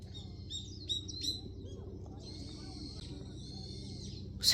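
Birds chirping at a temple, with a few bright, separate calls early on and then a longer sustained trill, over a low hum of outdoor background noise.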